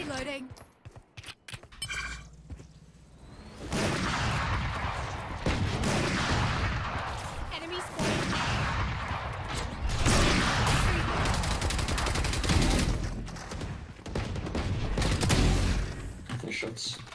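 Video game gunfire during an MIBR vs Ninetails esports match rattles in dense, steady bursts and scattered single shots, heard beneath near-constant talking from a watch-party host.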